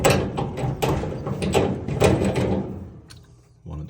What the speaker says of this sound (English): Dryer's making a very loud noise when spinning.